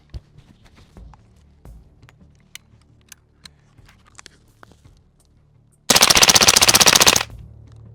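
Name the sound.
FRT-equipped DOE carbine firing a full 20-round magazine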